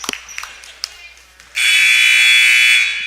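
A loud, sustained electronic buzzer sounds at a school basketball game during a free throw, following a few sharp thuds and gym noise, then blaring steadily for over a second close by.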